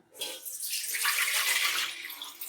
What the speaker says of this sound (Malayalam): നമ്മളിപ്പോൾ ഈ പാലും വെള്ളവും കൂടെ ഒഴിച്ചിട്ടാണ്